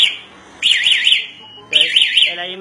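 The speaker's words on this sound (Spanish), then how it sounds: "si digamos yo por ejemplo golpeara la moto, pues el control me va a empezar a avisar que me le están haciendo algo a la moto" A ZMR 225 motorcycle alarm sounds through its remote unit, sending two loud bursts of rapidly warbling electronic siren tones separated by a short pause, close up.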